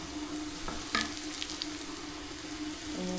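Green chilies fry in a pan with a soft, continuous sizzle and a few brief clinks and stirring scrapes over it.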